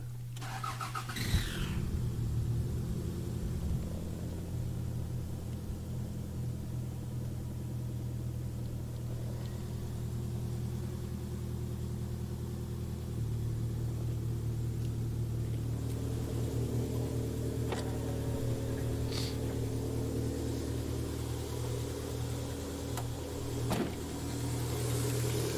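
A Toyota Celica ST162 with a swapped fourth-generation 3S-GTE engine cranks and catches, then idles with a steady low rumble and occasional light revs, close by with no talking.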